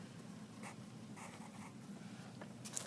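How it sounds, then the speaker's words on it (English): Pencil writing numbers on paper during a math lesson, a few short faint scratchy strokes in quick succession over a quiet room hiss, no voice. "So let's write that down."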